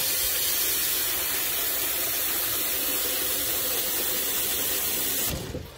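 Beans being washed in a bowl of water while preparing rice with beans, a steady close splashing, swishing wash that runs almost continuously before stopping abruptly.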